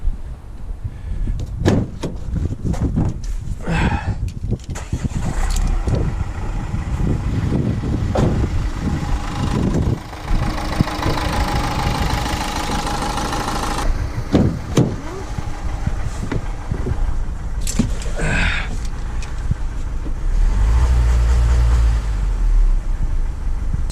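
Engine of a Renault Master van running steadily with a continuous low drone and a repetitive knocking from the engine bay, along with a few clunks and brief higher-pitched mechanical noises; no talking.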